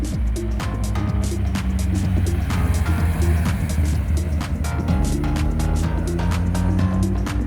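A Honda CBR600RR sport motorcycle on a test ride, its engine droning steadily and fairly loud, with the pitch rising and falling through the ride and no voices over it.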